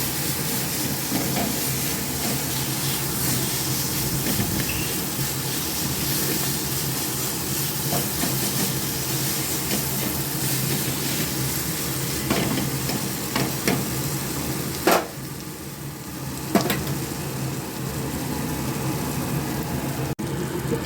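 Cashews and raisins fry in oil in a pan over a medium gas flame, making a continuous, even hiss and sizzle with a few sharper pops near the end and no talking.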